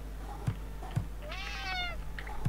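A cat in the horror puzzle game Friday the 13th: Killer Puzzle gives a single clear, rising-then-falling meow mid-clip, set between soft periodic thumps over a low game hum.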